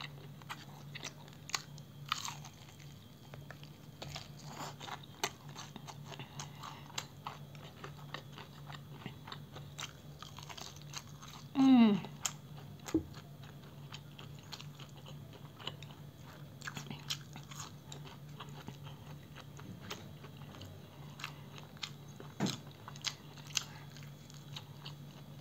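Crunchy bites and chewing of fried seafood skewers with shrimp alongside bibimmyeon noodles, close and intimate, with scattered crisp crunches and one louder bite near the middle over a steady low hum.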